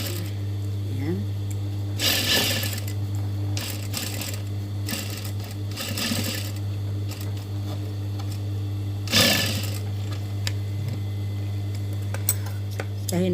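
A sewing machine stitching the side seam of a homemade body bag, running in several short whirring bursts over a constant low hum, with a person talking in between.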